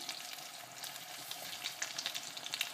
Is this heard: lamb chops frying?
yes